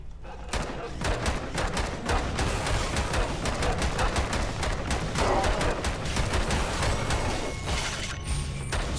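Revolver gunfire in the dystopian roguelite FPS video game Bunker Punks, a rapid series of sharp shots and impacts over a busy background of game sounds, dense and continuous.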